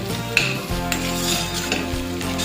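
Cooked rice being stirred into egg bhurji in a hot pan, with steady sizzling under scraping and a few sharp clinks of a spoon against the metal, close and continuous.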